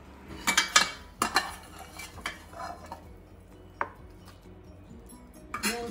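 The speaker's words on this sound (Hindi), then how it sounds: "अब हम भुने हुए प्याज मिक्सी में डालेंगे।" Fried onions scraped into a mixer jar while cooking Punjabi dhaba-style shahi paneer: a few sharp metallic spoon clinks and scrapes against the jar, close and intermittent, then quieter shuffling and a final clatter.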